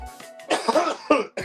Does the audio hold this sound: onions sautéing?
no